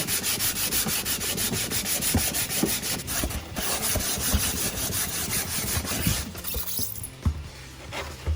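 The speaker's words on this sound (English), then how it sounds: "we just let it dry up first, then sand it down" Sandpaper scrapes back and forth over a dried Gyprock plasterboard patch in a steady, close, continuous rasping rhythm with no talking.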